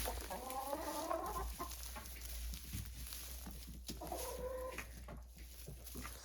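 Chickens, including Americana hens, cluck softly in two short bursts at moderate distance over a steady low background hum, in a snowy greenhouse setting.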